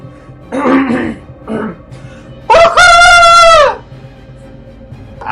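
A person imitates a rooster's crow: a few short throaty vocal bursts, then one loud, sustained, wavering cock-a-doodle-doo call lasting about a second, close to the listener.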